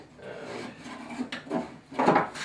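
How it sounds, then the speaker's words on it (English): Wiper arm assembly on a 1997 Ford Mustang SN95 being slid and guided out from the cowl, giving scraping, rubbing and knocking noises of parts catching, with a louder rustle near the end; no talking. "Now the arm assembly should slide out this way."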